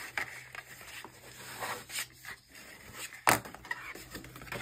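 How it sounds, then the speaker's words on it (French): A bone folder rubs and scrapes firmly along thick cardboard to score folds for a photo frame with rotating cubes, giving close, uneven strokes and a few sharper scratches, with no talking. "je peux m'aider avec mon plioir pour vraiment bien marquer les plis"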